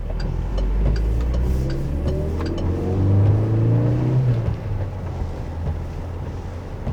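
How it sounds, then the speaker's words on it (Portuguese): A Chevrolet S10 pickup's engine drones and climbs under hard acceleration, heard from inside the cabin amid road and wind noise, rising steadily before easing off. "o ruído excessivo do motor em momentos quando a gente pisa fundo"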